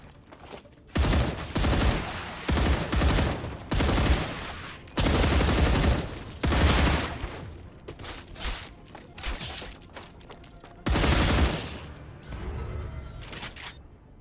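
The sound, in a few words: gunfire in StarRupture video game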